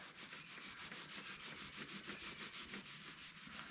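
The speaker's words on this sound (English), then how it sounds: "We sprayed them, we're rubbing around on a rag." Bicycle bearings from a Schwinn, sprayed with cleaner, being rubbed around on a rag, making a steady close-up scrubbing, rubbing sound with a regular back-and-forth rhythm and no talking.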